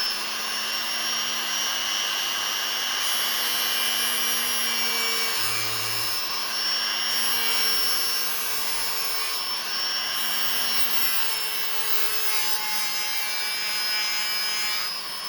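A rotary tool grinding a knife blade at its lowest speed, a steady high-pitched whine with an abrasive scraping hiss that shifts slightly in tone as the blade is worked, with no talking.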